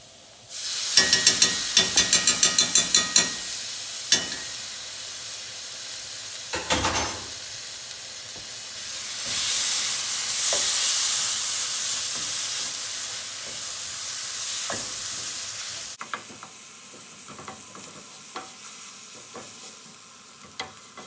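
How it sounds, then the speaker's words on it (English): Onions and minced garlic sautéing in a pan for a creamy shrimp soup: a quick run of spoon taps and scrapes, then a broad steady hiss of frying with occasional stirring clicks, close and without talk. "my onions are almost cooked. I'm going to add a tablespoon of minced garlic."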